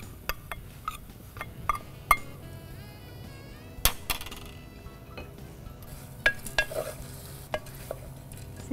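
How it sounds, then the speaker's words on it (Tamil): Bamboo rice, broken to a semolina-like grit in a mixer, is stirred in a frying pan, with a faint sizzle under repeated clinks and scrapes of a spoon against the metal, steady and close. "சேர்த்து நல்லா கலந்துக்கோங்க."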